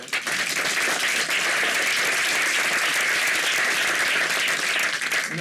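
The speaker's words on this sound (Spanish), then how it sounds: "muchísimas gracias, un aplauso" A conference audience at a 2024 economic and technology outlook event gives sustained, dense applause, loud and even from start to finish with no talk.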